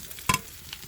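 Spatula stirring turmeric-coated fish heads, fins and cut pieces frying in hot oil, with one short scraping burst and a faint later scrape over a quiet background, no talk.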